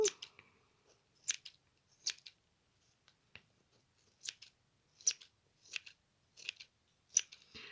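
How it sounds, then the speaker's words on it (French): Scissors trim off excess masking tape in a series of soft, crisp snips spaced irregularly over several seconds, close and quiet with no talking. "Ensuite je vais découper ce qui dépasse"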